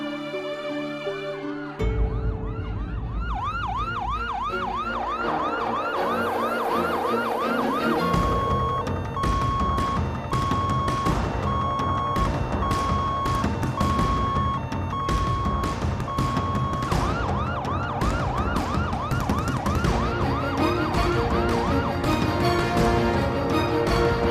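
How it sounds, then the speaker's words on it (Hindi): Loud electronic alarm siren wails continuously, cycling through warbling and steady tones over a busy mechanical clatter, with no voices. "कोई आग नहीं लगी है, फॉल्स अलार्म है ये"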